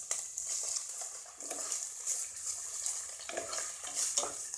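Chopped onion frying in a pan for egg chicken chowmein: a bright, steady sizzle up close, punctuated by repeated scraping stirs of a utensil against the pan.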